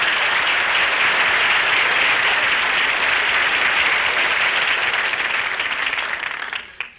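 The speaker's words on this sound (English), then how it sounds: "Folks, how about giving Don Wilson a big hand?" Sustained studio audience applause for announcer Don Wilson at a radio comedy show, dense and steady for most of the stretch, then tapering off at the end.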